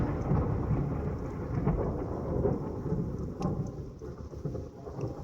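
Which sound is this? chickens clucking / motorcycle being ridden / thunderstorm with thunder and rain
thunderstorm with thunder and rain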